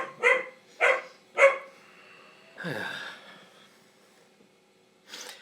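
A dog gives three sharp barks in quick succession, then a longer rougher huff or snort, and one more faint bark after a quiet pause, all fairly near in a quiet room.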